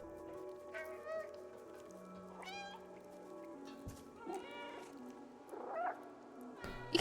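Cartoonish cat meows triggered in a video game, several short warbling mews and yowls scattered over a quiet, faint background, some sounding oddly strained, with no one talking.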